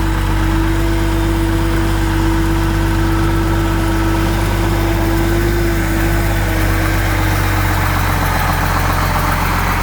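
A Case 1080B excavator's engine idles steadily and loudly close by, a constant low rumble with a droning mid-pitched hum and vibration that holds unchanged throughout, with no voices.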